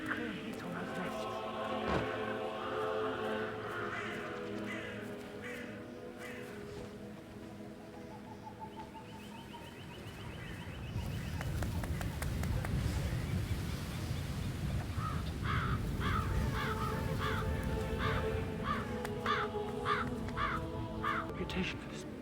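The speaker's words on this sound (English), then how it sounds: "Damn birds." Crows in the video game Hitman 3 give repeated harsh caws amid ambient game sound, while a voice talks over them and a low rumble builds in the second half.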